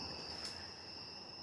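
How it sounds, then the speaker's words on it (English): Crickets chirping at night in a quiet outdoor spot, a steady high-pitched drone that continues unbroken, faint and even, with no voices. "You hear the crickets chirping."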